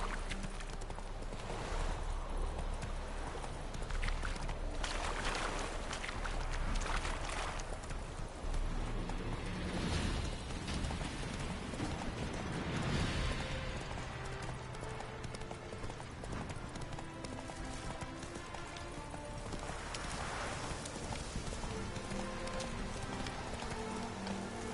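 Horse hooves clip-clop steadily and continuously in The Witcher 3 as the mount trots and gallops along, with a rhythmic, fairly close beat over a dense ambient game soundscape.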